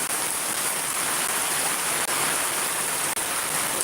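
Heavy rain pours down steadily in Shariatpur, a dense, unbroken hiss that stays loud and close for the whole stretch, with two brief dips in the middle and no voices.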